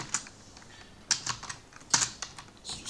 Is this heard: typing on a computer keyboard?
yes